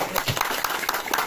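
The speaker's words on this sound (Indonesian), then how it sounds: "terima kasih, tepuk tangan" Brief scattered clapping rises from villagers at a Sidorejo, Purworejo neighbourhood watch post competition, a short burst of hand claps at moderate distance that fades quickly.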